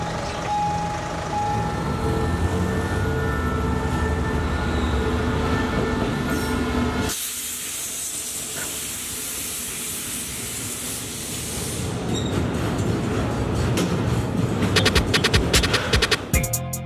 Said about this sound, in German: Jetzt kann ich euch einen Zug hier zeigen.